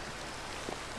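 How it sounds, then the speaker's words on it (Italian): Steady, soft rain hiss falls continuously in the Minecraft video game, an even wash of raindrops with no voices over it. "Piove, c'è brutto tempo"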